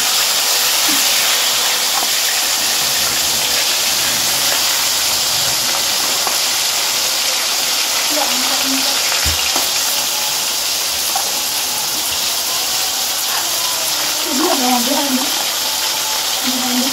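Loud, steady sizzling of chicken frying in a wok fills the whole clip, a dense hiss with occasional faint clinks and pops.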